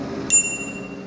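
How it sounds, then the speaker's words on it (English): A single bright ding from the standard bicycle bell on a Dirwin Voyager 20-inch e-bike, a short sharp strike that rings on with a clear, slowly fading tone. "You do have just your standard bell."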